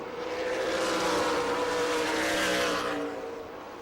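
Stock race cars of the Sunbelt Series at New Smyrna Speedway roar past in a loud rising and falling engine sweep, several cars bunched close together, heard alone without voices.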